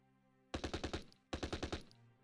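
Two loud bursts of rapid gunfire in the Close Combat game, blind fire on a position at Arnhem Heights, each burst about six shots, close and alone with no talk.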